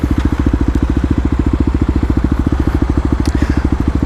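A Kawasaki KLX250 dirt bike fitted with a 13-tooth sprocket idles close by, its single-cylinder engine thumping in a rapid, even, loud rhythm with a faint crackle throughout.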